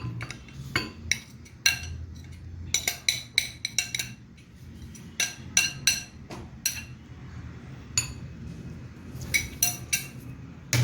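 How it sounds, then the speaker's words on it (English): Lebanese-style potato salad spooned into a serving bowl, giving a run of sharp, close clinks and scrapes of utensil against dish in an irregular rhythm over a low kitchen hum, with no talk. "So I'm putting this into this bowl for presentation."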